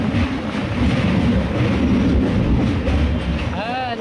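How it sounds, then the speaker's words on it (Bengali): A train pulling into Ayodhya Dham Junction station, a continuous loud rumble and rolling rattle close by throughout, with a faint rising squeal near the end. "তো আমরা এখন অযোধ্যা ধাম জংশন পৌঁছাচ্ছি, ট্রেনটা ঢুকছে।"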